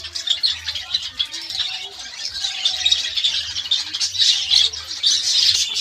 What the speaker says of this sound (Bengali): দেখুন আমার পাখিগুলো গরমের সময় দেখুন দানা খেলিয়ে আছে